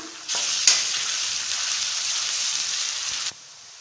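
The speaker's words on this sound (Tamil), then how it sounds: "இப்போ இதில் 1 டேபிள் ஸ்பூன் அளவுக்கு இஞ்சி பூண்டு பேஸ்ட் போட்டு நல்லா வதக்கிக்கலாம்" Ginger garlic paste and onions frying in oil for a home-style egg curry, a loud, even sizzle that starts abruptly, holds for about three seconds, then cuts off, with a sharp clink near the start.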